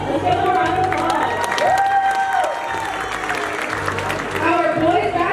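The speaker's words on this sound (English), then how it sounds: "Let's give them a round of applause!" A high school rally crowd in a gym applauds and cheers, dense clapping with scattered shouts from a large audience, while an amplified announcer's voice speaks over the noise.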